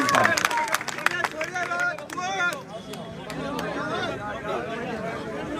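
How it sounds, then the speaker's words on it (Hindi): An audience at a stage event claps and murmurs to welcome a guest. A burst of applause and cheering comes first and then thins into crowd chatter and scattered claps. "एक बार जोरदार तालियां बजाकर स्वागत महेंद्र जी जैन साहब।"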